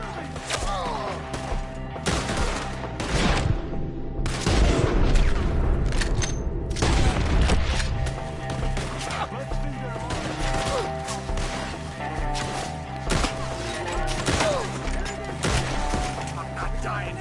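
Gunfire from a Red Dead Redemption 2 shootout, with dense, continuous volleys of shots and impacts across the whole stretch over a busy game soundtrack, with voices in places.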